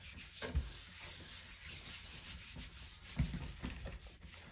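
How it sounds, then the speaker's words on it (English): A magazine image is rubbed vigorously onto a gel printing plate, making a continuous soft scratchy rubbing with a couple of low thumps, quiet and close. "I'm gonna rub that in vigorously"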